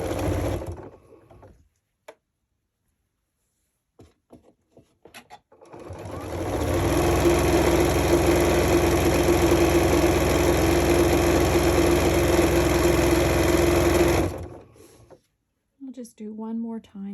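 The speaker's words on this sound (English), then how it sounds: "I'll just sew a little bit ways down, and then we'll sew the other side on so you can see how I did that." Sewing machine stitching fabric, running in one steady close whirring buzz for about eight seconds, with quiet handling noises before it and someone talking after it stops.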